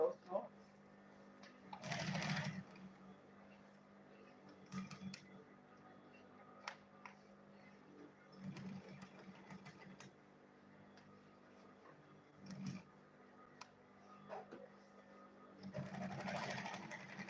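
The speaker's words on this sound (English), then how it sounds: "then I'll turn it again and sew this side also." A sewing machine stitching the side of a fabric lunch bag, heard as faint, steady mechanical whirring and ticking with a few louder bursts. Quiet handling noises come and go.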